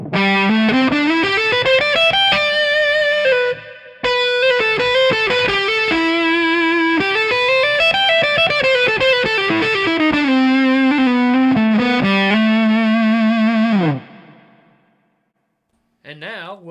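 A guitar fed through the PHD Isosceles Fuzz, clipping switch set to middle, delivers a long stretch of thick, saturated lead playing with fast runs and slides, loud and close, then decays into silence before a short final burst.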